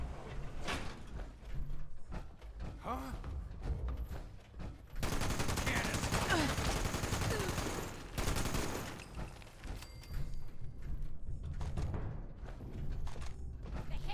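Gunfire in the video game Fallout 76: bursts of rapid shots with loud dense stretches of sustained fire between quieter gaps, with faint talk in places.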